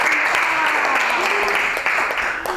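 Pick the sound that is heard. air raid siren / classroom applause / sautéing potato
classroom applause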